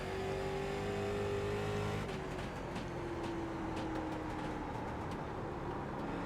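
A late model stock car engine in the iRacing NASCAR sim roars steadily, then drops briefly and climbs back in pitch as the throttle reopens, with a droning tone held close throughout.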